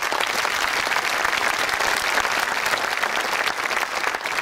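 Audience applause at the opening of the 10th Andros Festival in Greece, a dense, steady crowd of hands clapping at moderate loudness, sustained without pause and with no voices on top.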